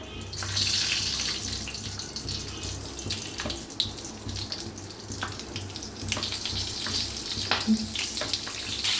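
A steady hiss of green chillies frying in hot oil, with occasional pops and crackles over a continuous sizzling wash, no voices.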